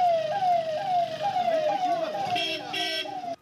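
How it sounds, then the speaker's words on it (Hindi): Police sirens wail in repeating rising-falling sweeps in Shivamogga, India, loud and close, with a second higher siren tone joining briefly near the end. "शिवमोगा में फैले तनाव के बीच सायरन की आवाज गूंजने लगी।"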